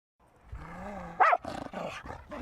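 A pet dog named Bella lets out a short, loud growling bark or roar-like vocalization, with softer whining and grumbling sounds before and after it at close range.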